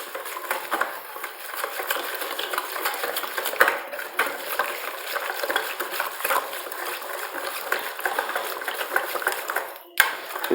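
Yogurt and spices being mixed for a chicken steam roast, two kilos of chicken with 500 grams of yogurt, giving a wet, squelching, rattling stir that runs continuously with a faint bump near the close.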